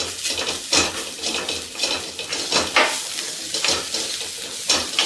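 Peas stirred in a pan with turmeric, red chili and coriander powder, a spoon scraping and clinking against the metal in steady repeated strokes over a low sizzle, close and fairly loud.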